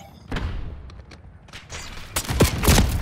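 Gunfire in the Call of Duty video game: a few sharp shots early on, then a denser, louder cluster of bursts and thuds toward the end, with no clear talk.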